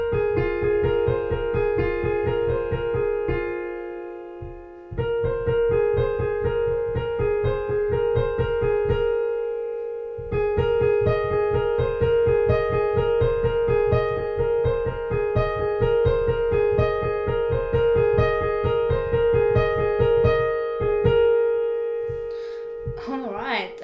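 Right-hand piano part of a piece, a steady flowing figure of repeated notes over a sustained middle tone, played close and clear in phrases separated by short pauses.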